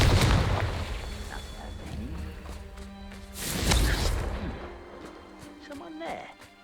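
Confringo blasting spell in Hogwarts Legacy, a fire-curse explosion with a heavy opening boom that rumbles and fades, then a second swelling blast midway, amid game sound effects and an occasional voice.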